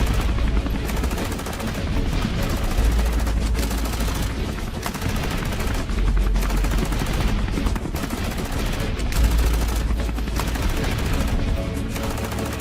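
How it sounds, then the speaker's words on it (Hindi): Dense, continuous bursts of rapid gunfire with booming impacts, loud and sustained throughout with a busy, cartoonish action-scene feel. "और उन पे गोलीबारी करने लगता है।"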